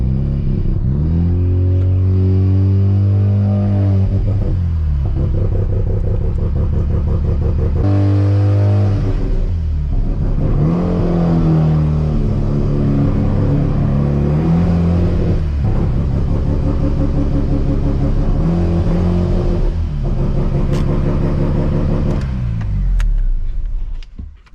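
Mazda FD RX7 with a rotary engine pulling hard while being driven, a loud close buzzing rasp that climbs through the revs, drops at each shift and surges again, with no voices.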